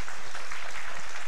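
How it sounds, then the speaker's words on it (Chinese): Church congregation clapping together during a Sunday service at a Chinese-speaking church, a dense, even burst of applause that fills the room for a moment. "再给你们这个教会一个掌声好不好？"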